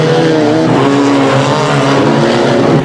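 Banger racing cars pulling away together at the start of a full-contact heat at Stansted Raceway, a loud dense roar of several engines revving hard close by, sustained throughout the brief burst.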